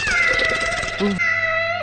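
A cat meows once, short and rising, under a person talking continuously nearby.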